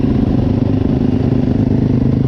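Yamaha YZ250 dirt bike engine, warmed to temperature with choke use, running close and loud with a steady rough mid-pitched drone and slight rev fluctuation, no voices.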